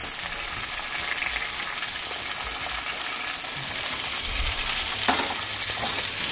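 Pieces of beef sizzle and brown in a pot for a braise, a loud continuous frying hiss with occasional scraping and stirring clinks, no voices.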